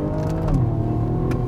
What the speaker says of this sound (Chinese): 大家听声音应该可以感受得到，它换挡的时候呢，还是有个比较大的时间差